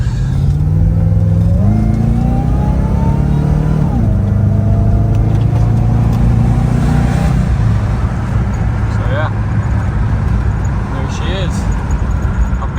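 A truck engine idles roughly, then revs up and drops back a couple of times, loud and close, with a steady rumble continuing afterward.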